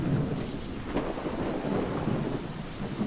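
A thunderstorm rages in the STALKER video game, with heavy rain pouring down and deep rolling thunder rumbling throughout, loud and continuous with no voices.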